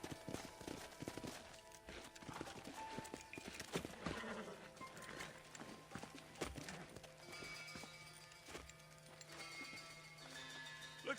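Horse hooves clip-clop in Red Dead Redemption 2 as a train of sharp, irregular hoofbeats, fairly close and moderately loud, over a quieter game ambience.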